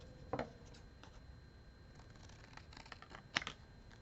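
Scissors snip out paper pieces for a holiday junk journal with a few quiet, close cuts and soft paper rustling between them.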